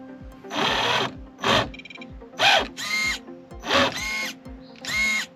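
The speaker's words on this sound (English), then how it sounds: "It's a low voltage servo, so it's not super fast." A low-voltage steering servo on an RC rig whirs in about seven short, sharp motor bursts with brief pauses between, close and clear with no talk over it.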